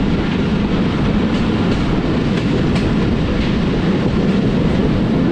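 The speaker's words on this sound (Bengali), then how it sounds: "ট্রেন প্রবেশ করছে ললিতনগর রেলওয়ে স্টেশনে" The Dhalarchar Express enters Lalitnagar railway station, heard from on board: a loud, steady rolling rumble with faint wheel clatter throughout and no voices.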